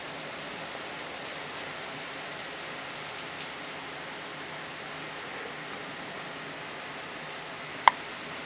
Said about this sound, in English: It's rain now.